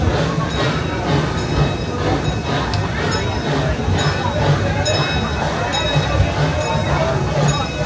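The Tommy G. Robertson Railroad train at Six Flags St. Louis rolls along its track, a continuous loud rumble with rhythmic wheel clicks and occasional higher metallic squeals, steady throughout.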